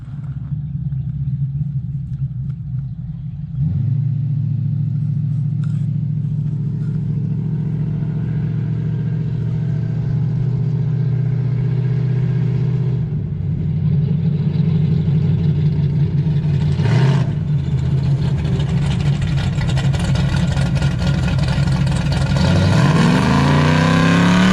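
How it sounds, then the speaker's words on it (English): A 1968 Hemi Dodge Charger engine revving for a burnout, a loud, close, low rumble that jumps up a few seconds in, then holds a sustained roar with rising revs toward the end. "We got a Hemi Charger there that's never done a burnout in its life, and we're about to pop that red cherry right now."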